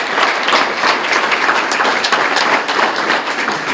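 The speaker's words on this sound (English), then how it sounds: "So let's give them all a big round of applause." Brisk, dense applause fills the room at a Glendora city council meeting during a community recognition awards presentation. The clapping stays even and full throughout the short stretch.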